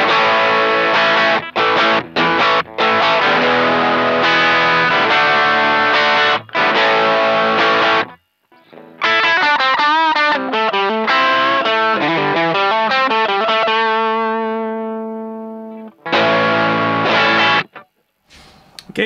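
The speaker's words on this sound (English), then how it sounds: "Starts to get really like a nice hard overdrive tone." Electric guitar on the bridge pickup through a breadboard-built DIY overdrive pedal with the gain raised, giving a loud, hard overdriven tone: chords and riffs, a run of descending notes ringing out and fading, then brief strums after a pause.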